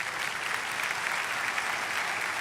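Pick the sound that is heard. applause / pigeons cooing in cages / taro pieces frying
applause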